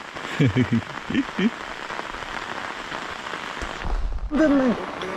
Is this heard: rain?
yes